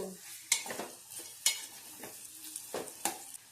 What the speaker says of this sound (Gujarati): હવે આ નાના નાના ચમચાથી હલાવી દઈશું